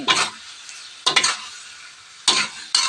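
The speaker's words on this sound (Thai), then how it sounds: "อันนี้ผัดกะเพราเส้น" Basil noodles are stir-fried with sliced pork and sausage in a sizzling pan, with four sharp scraping tosses spaced across the clip and a softer sizzle between them.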